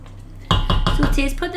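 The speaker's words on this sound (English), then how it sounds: "you're meant to put this on a high heat and stir it for about 5 minutes" A spoon clatters and scrapes in a pan as chicken tikka is stirred over high heat, giving several quick, loud strokes close by after a quiet start.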